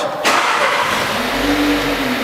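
An Audi A3 engine cranks and catches, then settles into a steady running idle close by.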